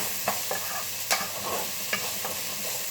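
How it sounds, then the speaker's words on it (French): Carrots, onions and bacon sautéing in a pan for a sausage and lentil dish, a steady sizzle with a few sharp stirring scrapes against the pan, moderately loud, no talking. "Donc là je fais revenir d'abord ça vite fait. Et ensuite on rajoute donc le lard."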